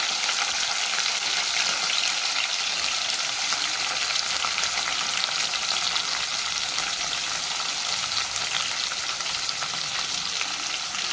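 Green chillies and onions fry in hot oil with cinnamon for a gongura curry, giving a loud, even, continuous sizzle that hisses steadily throughout without pauses or voices.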